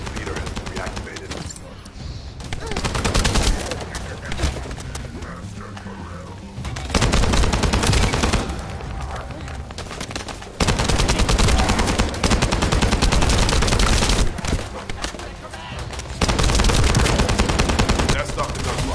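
Sustained gunfire rattles in The First Descendant video game: rapid automatic bursts and volleys come in loud waves, with voices and game sound mixed in.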